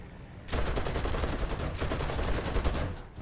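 Aircraft guns firing at a bomber in War Thunder, a loud sustained burst of rapid gunfire that runs nearly three seconds before cutting off.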